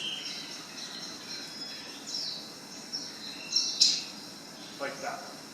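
A bird feeding nestlings at a nest gives a few faint, short chirps scattered over several seconds against a quiet outdoor background, with one slightly sharper note near the middle.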